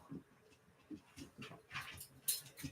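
A dog whimpers in short, repeated whines and soft yelps at close range, with a brief higher-pitched squeal near the end and faint room noise between the bursts.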